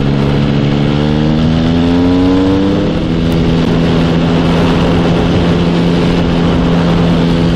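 A motorcycle engine pulls hard through the gears toward 60 mph, a loud, close, continuous drone whose pitch climbs steadily, then settles into a steady cruising tone under strong wind rush.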